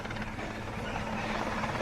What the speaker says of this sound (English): Here's the relief helicopter.